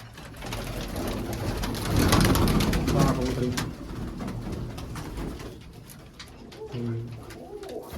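Pedigree pigeons, including black and red Chinese and Punnu Kalia birds, coo in a loft, their low rolling calls overlapping and swelling then fading, with a voice murmuring in the background.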